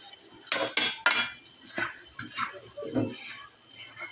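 A utensil scrapes and knocks against a pan while red amaranth greens are mixed with rohu fish. The clinks and scrapes are close and irregular, with soft pan noise between them.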